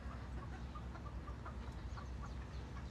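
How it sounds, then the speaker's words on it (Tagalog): Chickens cluck in a backyard with ducks nearby, a steady busy farmyard bed of short calls over constant outdoor noise, close and moderately loud with no talk. "May manok, may bibe."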